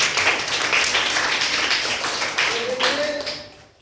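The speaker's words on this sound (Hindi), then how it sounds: "शाबाश, ताली बजाइए।" Children in a Hindi class clap together for a few seconds, a brisk burst of scattered hand claps that tapers off, with a teacher's voice over and after it.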